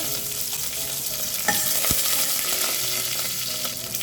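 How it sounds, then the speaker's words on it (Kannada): Mustard seeds splutter in hot oil as asafoetida goes in for a tempering, with curry leaves in the pan for an avarekalu dish. There is a continuous close sizzle with scattered crackles and a sharp pop midway. "ಈ ಥರ ಸಾಸಿವೆ ಸಿಡಿಯೋಕ್ಕೆ ಸ್ಟಾರ್ಟ್ ಆದಮೇಲೆ ಇಂಗನ್ನು ಕೂಡ ಸೇರಿಸ್ಕೊಳ್ತಾ ಇದ್ದೀನಿ"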